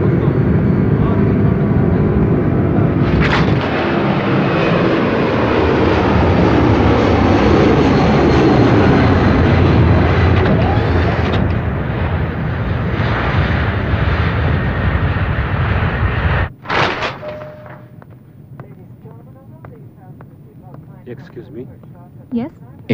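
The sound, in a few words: airplane taking off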